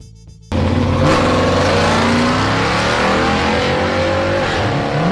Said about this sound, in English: Equipped with a massive 427 cubic inch V8 engine